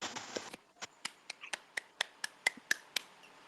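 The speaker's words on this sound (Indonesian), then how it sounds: "Silahkan tepuk tangan untuk yang terpilih." Sparse, quiet claps from a small classroom group for a newly elected class leader, about a dozen separate sharp hand claps spaced irregularly after a brief murmur at the start.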